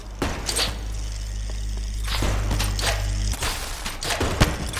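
Turrets firing in a flying-island exploration video game: a rapid, dense volley of sharp shots and thuds over a steady low rumble, loud and continuous across the whole stretch.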